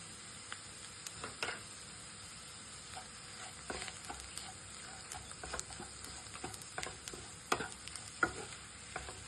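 Chopped onion and salt sautéing in a pan for a spinach and peanut bhaji, a quiet steady sizzle broken by scattered sharp scrapes and taps of a spoon stirring, with no talking.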